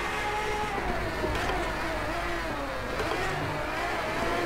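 In the Driveclub racing game, a Ferrari's engine roars while accelerating. It is faint and buzzy, with a rising and falling rev tone over continuous road noise.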